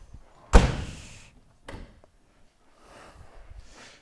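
A car's door being handled during a look over a used car, with a sharp loud slam followed by a lighter thunk and some quieter rattling shuffles afterward, close by, no talking.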